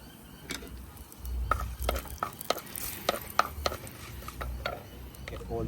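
Ceylon cinnamon and thyme sizzle and fry in hot oil in a pan, a steady crackling hiss with repeated scraping stirs close by and no voices.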